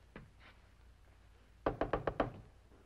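Knocking on a door in an old Western radio drama: after a faint thump and a quiet pause, five sharp, hollow raps come in quick, even succession, close and loud.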